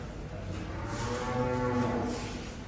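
A cow in a cowshed in Phillaur lets out a long, low moo nearby, a drawn-out bellow rising and fading over a couple of seconds.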